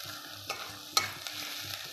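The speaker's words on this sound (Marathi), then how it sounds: "त्यानंतर लसूण टाकला आहे बघा." Onion and garlic frying in a pan while making crumbled leftover bhakri pieces, a soft steady sizzle broken by a few stirring scrapes and clinks up close.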